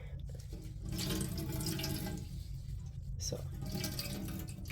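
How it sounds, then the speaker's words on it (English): Water drains steadily from a squeezed skein of freshly dyed yarn, a continuous close splashing trickle with dripping over a sink, while a voice briefly speaks. "I'm going to let some of this water drain out and just give it a gentle squeeze"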